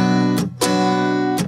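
Acoustic guitar plays the second strumming pattern for a song: three crisp strums with sustained chords between, a short gap after the first two, close and clear with no voice.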